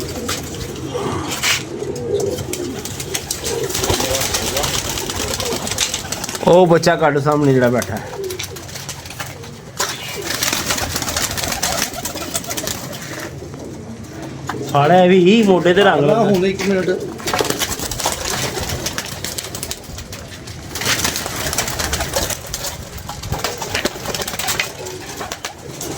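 Pigeons coo in two clear bursts, close and throaty, over a noisy outdoor background while people talk at intervals.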